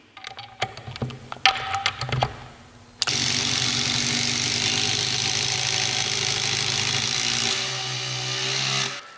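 A Surge impact driver drives a 6-inch structural screw in one long continuous loud whir that lasts several seconds, with a few short bursts and clicks before it starts.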